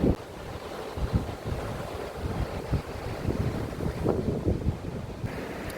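Sea surf breaking on a beach in wind and rain while shore fishing for flounder, with a continuous rushing wash of waves and heavy gusts buffeting the microphone, no talk.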